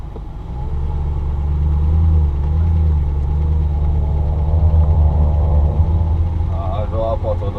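An Audi R8 sports car on the road, its engine giving a steady, close low rumble throughout, with a voice rising briefly near the end.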